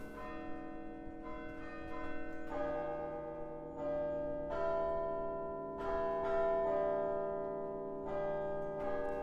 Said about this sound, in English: the bells have a lot of power. They're very beautiful